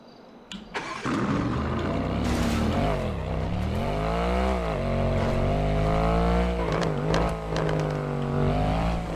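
Car engine from the game GTA, running steadily and loud with shifting revs and pitch sweeps, following a brief start-up, heard alone throughout.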